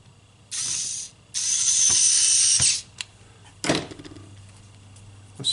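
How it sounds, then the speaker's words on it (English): A screwdriver drives a screw back into the leg of a Tickle Me Elmo toy being switch-adapted, giving two sustained bursts of close, ratcheting mechanical whirring, then a few sharp clicks and a short rattle, with no talking. "I'm going to get that screw back in there right now."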